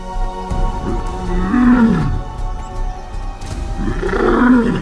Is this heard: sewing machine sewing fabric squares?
no